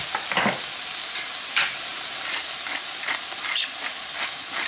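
Carne asada and onion sizzling in a hot pan while being stirred, a close, continuous hissing fry broken by several sharp crackles and spatters, with no talking.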